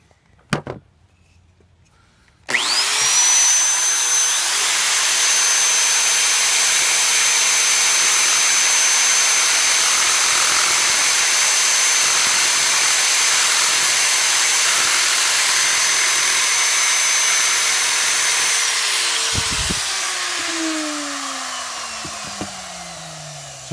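A bench grindstone spins up with a sudden start into a steady high whine and broad rushing hiss while a radius is ground into a carbide tool bit, loud and close, then powers down with a falling tone.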